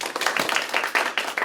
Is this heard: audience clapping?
yes